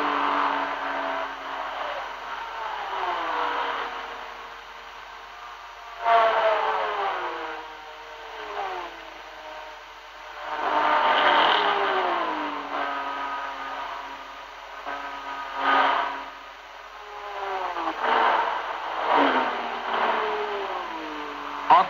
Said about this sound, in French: chacun a ses repères pour descendre les vitesses, toutes les vitesses une par une jusqu'à la première